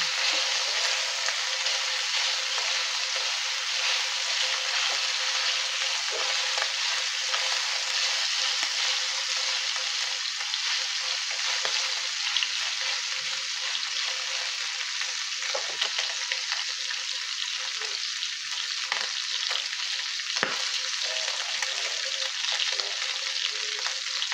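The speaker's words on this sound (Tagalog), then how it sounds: "So, ayun, medyo nag-prito na siya." Steady, close sizzling of pork frying in a hot pan as its liquid dries off, with occasional soft pops and crackles and no voices.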